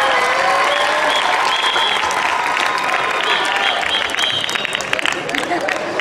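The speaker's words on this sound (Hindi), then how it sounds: "जरा तालियां बजा मैं उनके वास्ते।" Crowd applauding and cheering at a college gathering honoring a civil department professor's newly earned PhD, loud sustained clapping with voices and whistles mixed in throughout.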